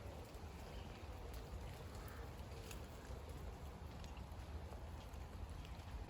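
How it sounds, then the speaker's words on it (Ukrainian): Light rain falling over an old part of town: a soft, steady patter with scattered faint drips, continuous and fairly quiet throughout. "І дощик капає."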